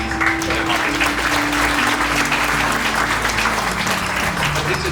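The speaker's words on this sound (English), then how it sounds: "I'd like a huge round of applause, please, for the Congressman." A crowd applauds Congressman Jim Costa at an event marking the widening of State Route 99, steady dense clapping filling the space throughout at a loud, even level.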